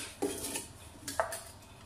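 Two quick metallic clinks of a ladle against a pot while scooping boiling ginger-mint drink, close and fairly soft, with a faint bubbling background and no voices.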